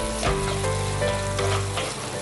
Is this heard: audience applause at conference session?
no